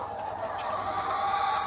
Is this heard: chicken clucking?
yes